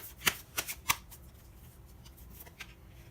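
Crystal Angel Oracle cards are shuffled by hand in a quiet room, a few crisp riffling bursts close together at first, then softer scattered shuffles.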